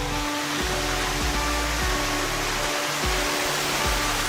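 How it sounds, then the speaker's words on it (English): A small waterfall in Iceland, heard as a constant, broadband rush of falling water that stays loud and even throughout, with a faint low mechanical hum running underneath. "You will see small waterfalls around it."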